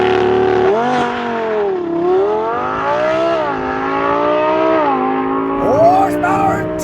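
A Lamborghini Huracan Sterrato with a 5.2-liter naturally aspirated V10 accelerates hard, its loud, close engine note rising and dipping through repeated revs and shifts in one sustained roar.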